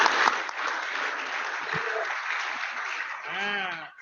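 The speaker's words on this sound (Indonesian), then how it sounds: "Tepuk tangan juga buat Meliana dong." A small audience gives brief, moderate applause at an online badminton meet-up event, with a voice briefly heard near the end.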